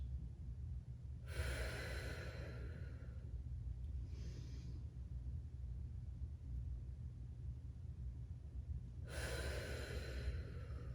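Slow, deep breaths during a stretching exercise, two long airy inhales several seconds apart over a quiet background hum.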